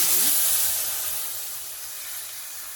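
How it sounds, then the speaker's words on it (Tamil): Tamarind water hits a hot pan with a loud hiss that fades into a softer, steady sizzle. "இந்த டைமில் புளி தண்ணி விடுறேன்"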